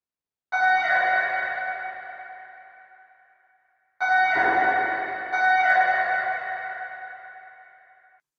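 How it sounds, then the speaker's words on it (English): Bell-like synth tones passed through a plate reverb effect in Studio One 5 music production software: two sustained struck chords, each with a long shimmering tail that slowly fades, the second overlapped by another strike. "And a plate reverb."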